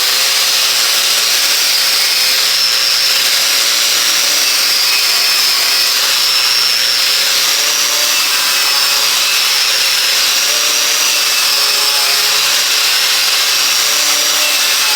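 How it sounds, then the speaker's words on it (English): A drum sander grinds steadily against the rusty frame of an 18-year-old Duramax truck, stripping off wax in one continuous, loud, close abrasive whine with a faint rubbing texture and no pauses throughout. "The drum sander is gonna work perfect for the big spots."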